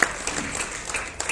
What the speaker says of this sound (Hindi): मैंने कहा सहज आपने ताली बजा दी